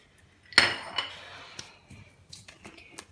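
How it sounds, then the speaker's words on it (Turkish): Hazelnuts, almonds and peanuts dropped into a bowl of oat dish: a sharp clatter, then a few lighter clinks and taps trailing off, close and quiet with no talk. "biraz fındık, badem, Birkaç tane de şöyle fıstık atayım."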